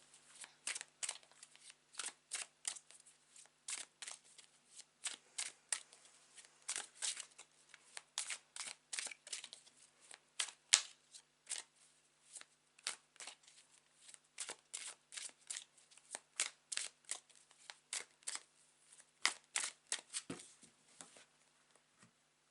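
Tarot cards are shuffled by hand in a quiet room, a long run of quick, crisp riffling flicks and soft slaps coming in uneven bursts, close and fairly faint, with no talking.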